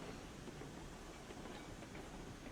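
Freight cars roll slowly back along the track in the RailRoads Online game, a faint continuous rumbling with soft clatter under a steady hiss.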